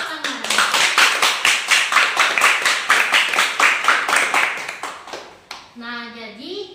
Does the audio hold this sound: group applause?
yes